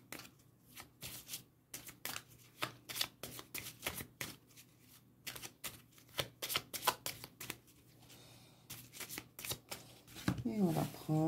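Playing cards slipped back into a deck and shuffled by hand, a run of crisp riffling bursts and soft slaps that come and go at close range, with a few short noises near the end.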